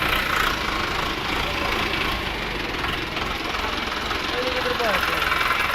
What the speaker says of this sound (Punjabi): ਦੋ ਸਿਲੰਡਰ ਦੇ ਵਿੱਚ ਟਰੈਕਟਰ ਹੈ ਜੀ